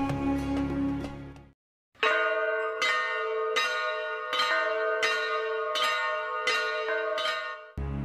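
Many bells ringing as a sound effect, first a dense clanging burst, then after a brief silence a series of regular, resonant bell strikes roughly every half second, loud and ringing out.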